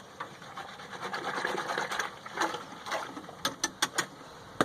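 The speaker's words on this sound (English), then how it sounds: "So much easier with a whisk." Grain in a homebrew mash tun being whisked for a low-gravity bitter, a close rough rubbing and swishing that ends in a few sharp clicking knocks, with no talk.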